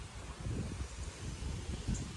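Gusty wind blowing across an open courtyard in the Konkan before a heavy thunderstorm, a steady low rumble of buffeting air with faint rustling throughout, no voices.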